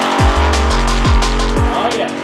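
An alcohol-injected Chevy drag car making over 1,500 horsepower roars close by at a quarter-mile event, its engine note rising and dropping in three sharp surges.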